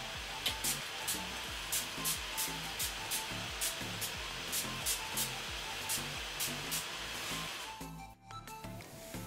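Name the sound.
makeup setting spray being sprayed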